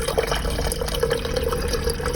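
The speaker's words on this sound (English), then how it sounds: "Filling up my 4th water." Water runs steadily from a tap into a bottle, a loud, continuous close-up gushing with a faint rising fill tone throughout.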